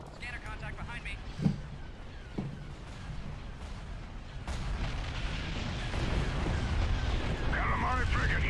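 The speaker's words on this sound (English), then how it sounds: "Hypervelocity cannon. Hate that. firing." A hypervelocity cannon fires in a Star Wars space battle game: deep booming blasts and a continuous rumbling roar that swells louder toward the end, with a couple of sharp thumps early on.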